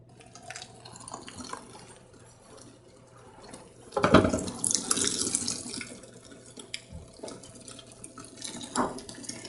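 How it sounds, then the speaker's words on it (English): Boiling water pours from a pot for wool felting, starting quietly, then surging into a loud splashing gush midway before trailing off into softer trickles and drips. "Got our boiling water."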